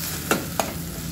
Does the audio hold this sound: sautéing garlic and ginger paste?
yes